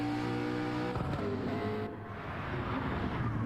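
McLaren GT race car running at Bathurst in a 12-hour endurance race, its engine droning loud and steady with a sustained roar that shifts pitch as it drives past.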